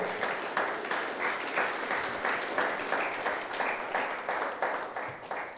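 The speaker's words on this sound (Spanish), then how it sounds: "Dale un aplauso al Señor, por favor." A church congregation claps for the Lord in a steady, rhythmic beat, many hands together in a reverberant hall, moderately loud and continuous with no talking over it.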